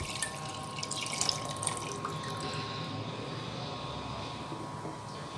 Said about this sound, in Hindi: मैं गोश्त के अंदर ये फुल जग पानी का डालूंगी